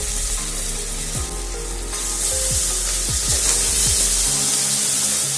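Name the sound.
onions with turmeric and ginger garlic paste frying in pan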